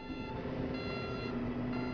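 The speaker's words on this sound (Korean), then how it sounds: "알람과 함께 경광등이 켜지며" An outrigger warning alarm on a DRFF vehicle sounds with its beacon light, a steady electronic tone held over a low mechanical hum, moderately loud and continuous.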